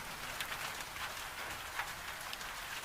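Steady rain falls on a rainy day in the Scottish Highlands around a farmhouse kitchen, a soft, even hiss of drops with faint patters, continuous and quiet, without any voices.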